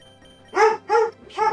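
Three sharp dog barks come in quick succession, close and fairly loud, with no talking over them.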